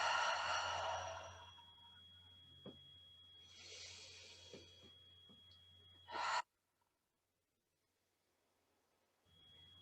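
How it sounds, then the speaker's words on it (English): Airy breaths drawn in and out during a guided breathing exercise in a yoga flow session, a few soft, close exhalations followed by a sudden drop to near silence. "Big full breath in. Exhale out."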